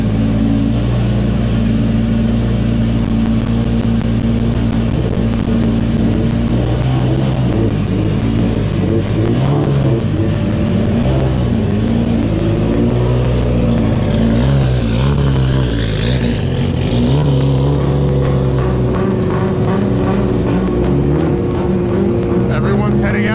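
A drift car engine idles and revs with a loud, continuous roar in the pits at Tsukuba during an FIA Drift Cup event, rising and falling in pitch, with people talking underneath.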